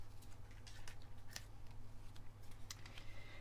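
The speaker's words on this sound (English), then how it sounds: "just cut around it with my scissors" Scissors snipping through black card around a mounted photo mat for a scrapbook pocket page, a quiet series of short irregular cuts close up over a steady low hum.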